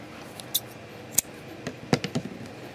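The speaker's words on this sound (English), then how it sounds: "and then cut off my yarn." Scissors snip through crochet yarn, a few quick close cuts standing out against quiet room tone.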